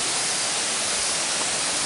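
Durian Perangin waterfall in the Langkawi jungle, a dense steady rush of falling water, loud and unbroken.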